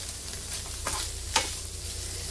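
Mawa (khoya) roasts in a pan under a soft steady sizzle, with a few distinct scraping stirs of a spoon cutting through at intervals; close and fairly quiet, no voices.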